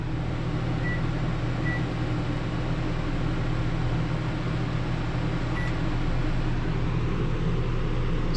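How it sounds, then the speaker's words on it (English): A microwave oven powered by a 2021 Ford F-150's onboard generator hums steadily with a low, constant drone and faint fan noise throughout, with a couple of brief soft beeps. "So let's turn on the microwave."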